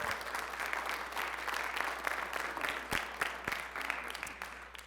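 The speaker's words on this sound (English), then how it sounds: "And let's give her a round of applause." An audience in a church claps for a guest speaker at a family event, a fairly quiet, scattered round of applause with a few sharper individual claps standing out near the end.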